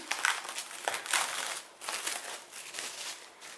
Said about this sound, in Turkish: Hemen streç filmi açıyorum.